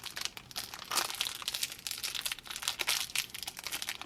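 Crinkly plastic blind-bag packet for a Num Noms toy being handled and torn open, close and fairly quiet, with bursts of crackling and rustling coming in uneven waves.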